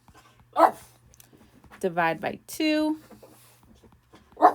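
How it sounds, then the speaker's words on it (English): A dog in the background gives a few short barks and yips, loud and close, interleaved with a person talking during a math lesson. "That's my dog."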